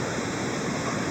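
Shower water running steadily over skin during a body rinse with a spa mitt, a continuous close hiss of spray and trickle with no breaks, alone without any voice.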